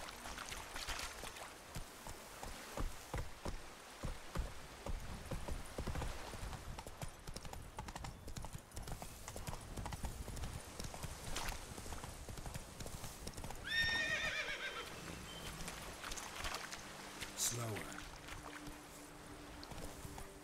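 Hooves clip-clop steadily and a horse whinnies in The Witcher 3: Wild Hunt's Blood and Wine expansion, over a busy game soundscape with a voice talking now and then.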